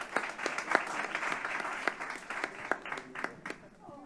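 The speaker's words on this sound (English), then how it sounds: "Round of applause" Audience applause at a pediatric innovation event as an Italian startup team is welcomed, moderate clapping with scattered distinct claps and some voices mixed in, fading slightly toward the end.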